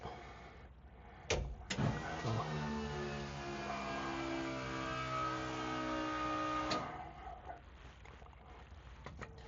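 A turbocharged LS C50 V8 with a 7875 turbo and Holley EFI revs once, a steady engine drone rising and holding for several seconds between sharp clicks, heard quietly from a distance.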